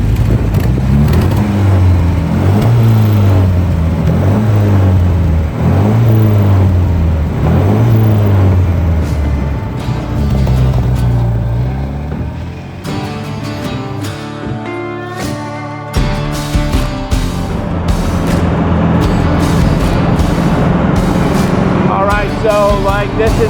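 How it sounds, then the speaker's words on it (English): A restored 1958 MGA Roadster British sports car rumbles along a country road, its sport exhaust burbling and rising and falling through gear changes, steady and close, with someone talking over the engine. "check out that exhaust because it sounds wonderful coming out the back"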